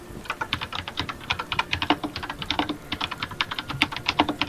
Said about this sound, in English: And whoever's typing mute, you're really loud.